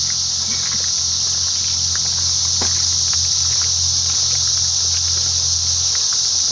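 Cicadas drone in a wild park setting, a steady, loud high buzz that runs unbroken throughout, with faint scattered ticks and rustles beneath and no talking.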